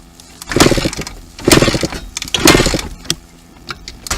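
A two-stroke dirt bike engine revs in three loud, rising bursts about a second apart, dropping back to a rough idle between each, close up and without speech.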